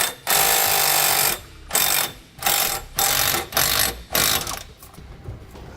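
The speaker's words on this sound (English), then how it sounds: "Then we'll use a 9/16 wrench and socket in order to tighten these up." Ratchet-driven 9/16 socket tightening bolts during an air braking system install under a 2016 Chevrolet Traverse: one long loud burst of rapid mechanical clicking, then four shorter evenly spaced bursts, close and alone.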